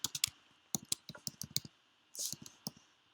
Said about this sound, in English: And then I'm going to start typing